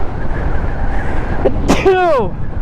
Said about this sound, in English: Sneeze in my helmet?